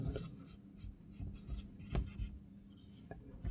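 Pen scratching on paper while a maths solution using Euclid's division algorithm is written out, with soft irregular strokes and taps close by and no talk.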